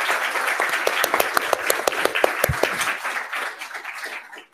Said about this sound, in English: If everyone could just give them a lovely round of applause.